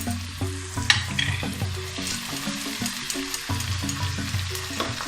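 Chopped tomato and ginger paste fry with onion in a pan, making a crackling sizzle under rhythmic scraping strokes of a spatula, close and fairly loud, with no talk.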